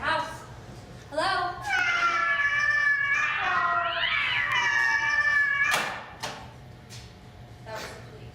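A cat meows and caterwauls loudly and close in a long drawn-out cry lasting several seconds, then several sharp clattering bangs and thumps follow.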